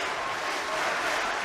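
Arena crowd at a men's team sabre fencing world championship final in Budapest applauding steadily, a dense wash of clapping at moderate level that holds evenly throughout.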